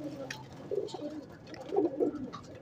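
Domestic pigeons cooing close by, soft throaty coos repeated in a couple of low bursts over quiet background.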